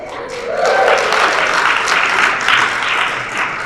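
Audience in a talk hall breaks into applause, a dense, loud wash of many hands clapping that swells quickly and holds steady throughout, with no one speaking over it.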